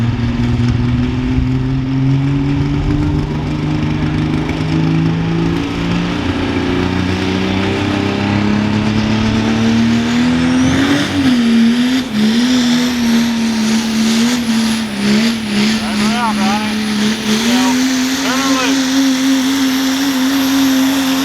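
A Cummins diesel sled pull truck engine revs hard and loud, its drone climbing steadily in pitch, then wavering and surging through repeated throttle stabs near the end, with no voices.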